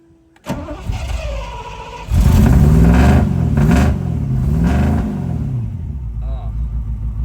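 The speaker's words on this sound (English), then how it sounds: "let's start up the MG. Give it a couple of pumps of fuel." A restored classic MG car engine cranks with a whirring starter, catches, then roars through several rising and falling revs before settling to a rough idle, close and loud, with someone talking over parts of it.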